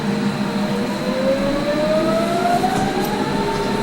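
A nearly empty East Berlin train runs steadily, a continuous rumbling rail noise with a slowly rising whine, no voices.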